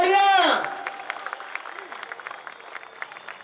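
Crowd at an Independence Day political rally in Agra breaking into applause, a burst of clapping that follows the end of a loud speech and tapers into lighter scattered claps.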